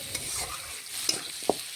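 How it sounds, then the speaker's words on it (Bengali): Potatoes fry with onions and a little turmeric in a pan for a chicken and potato curry, a faint soft sizzle with a couple of quick scraping stirs, no voices. "এখন পেঁয়াজের সাথে নাড়াচাড়া করে আলুগুলো ভেজে নিচ্ছি।"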